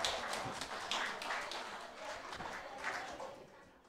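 A church congregation at an Indonesian Sunday service claps together, a dense, fairly quiet patter of many hands that runs evenly for a few seconds before tapering off.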